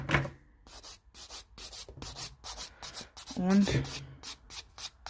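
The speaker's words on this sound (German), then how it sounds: "Dann nehme ich mir eine Feile, die nicht so scharf ist." A nail file scrapes off excess gel polish with short, repeated rubbing strokes, close and clear, while someone speaks between them.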